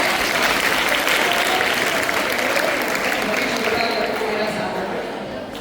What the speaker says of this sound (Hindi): तो एक बार जोरदार तालियों से इनका स्वागत करते हैं।